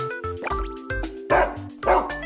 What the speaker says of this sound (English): Hey, there's a dog.